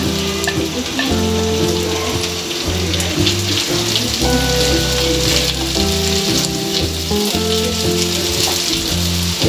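Chopped carrots added to rice frying in a pan crackle and sizzle continuously and loudly, with metallic stirring clinks and scraping over the dense frying noise.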